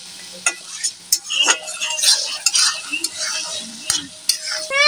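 Lemon leaves tossed into taro greens frying in a pan, with steady sizzling and repeated scraping, stirring clinks of a utensil against the pan.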